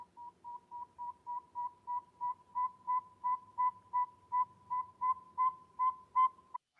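A northern saw-whet owl gives its rhythmic tooting call, a long run of evenly spaced single notes at a steady pace, faint and distant against quiet background rumble.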